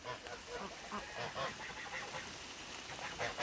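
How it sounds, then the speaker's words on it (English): Fully feathered young ducklings on a farm on a rainy garden day, faint scattered quacking and honking calls at a distance, soft and intermittent. "These are the ducklings, this year's babies."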